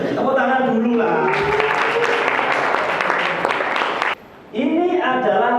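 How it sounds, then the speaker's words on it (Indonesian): A classroom gives a burst of applause, many hands clapping together in a dense patter that swells and then cuts off abruptly, with a voice talking before and after the clapping. "Tepuk tangan dulu lah."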